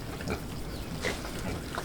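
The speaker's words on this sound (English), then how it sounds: "the sun is shining, the pigs like to be outside as well" Pigs outdoors at a countryside cottage, with several soft grunts and oinks scattered at close range over steady outdoor background noise.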